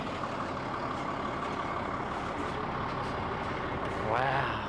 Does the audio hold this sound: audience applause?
no